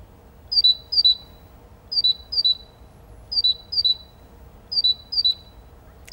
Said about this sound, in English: Here is the sound of a town bird.